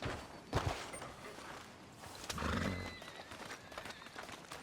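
A horse in Red Dead Redemption II moves with dull clip-clop hoof thuds and a brief whinny-like burst amid rustling outdoor game ambience, at moderate distance with no talk.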